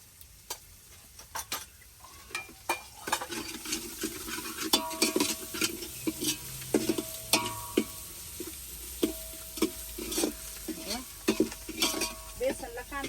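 Onion, chilli, tomato and turmeric fry in oil in a pan, with a soft steady sizzle under frequent sharp clinks and scrapes of a spoon stirring against the metal.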